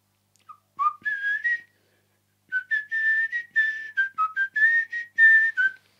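A person whistles a song's guitar hook: a short opening phrase, then a longer run of clear, tuneful notes in quick rhythm, close and alone.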